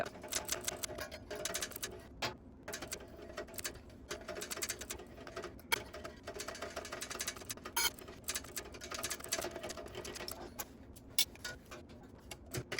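A sewing machine stitches slowly around the curve of a tote bag, giving a quiet, rapid run of ticking needle strokes broken by brief pauses.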